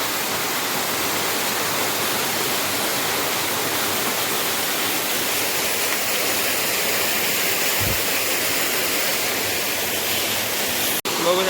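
Steady, loud roar of a waterfall on a Konkan stream, a dense continuous rush of water filling the whole clip, with a brief thump near the end.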